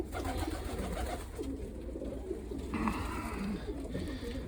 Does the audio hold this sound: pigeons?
yes